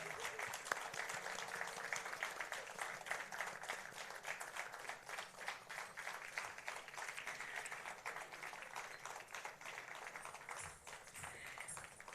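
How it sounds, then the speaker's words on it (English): Applause from an audience at a Bharatanatyam arangetram dance debut, heard from a distance: steady, sustained clapping that stays fairly quiet throughout. "A big round of applause for Sanaya Rath"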